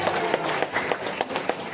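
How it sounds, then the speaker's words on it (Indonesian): Audience applause in an anti-corruption outreach session for executives and legislators in Papua, a steady wash of clapping hands with a few louder peaks, moderately near, lasting under two seconds. "Tepuk tangan bagi Bapak."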